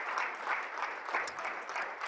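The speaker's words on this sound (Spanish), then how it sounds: "Démosle un aplauso a nuestro Dios, que se lo merece todo" A church congregation applauds during a Spanish-language service, dense sustained clapping from many hands at an even level.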